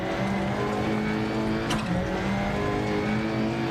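A rally car engine in the video game Dirt Rally 2.0 held at high revs under hard acceleration, a loud steady drone with a brief gear-change blip midway, no talk.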